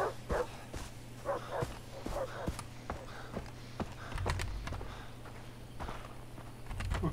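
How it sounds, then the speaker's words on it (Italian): Dogs bark repeatedly in the Far Cry 3 video game, a rapid string of sharp barks mixed with footstep-like thuds over a steady low rumble, with no talk. "i cani non ci inseguono"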